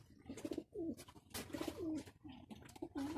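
Pigeons coo repeatedly in soft, throaty bursts, several calls overlapping nearby with a steady rhythm and no talking.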